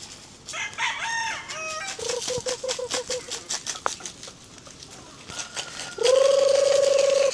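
Pet chickens and a rooster cluck and crow during a Philippine backyard snack time, with short repeated clucks early on and a loud, sustained crow near the end, close to the listener.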